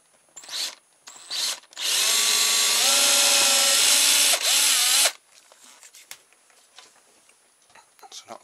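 Close, loud power drill boring a hole through soft scrap metal for a toy skateboard axle frame: two short trigger pulls, then about three seconds of steady whine, followed by faint clicks and handling noise.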